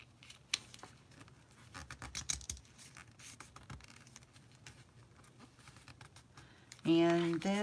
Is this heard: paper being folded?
yes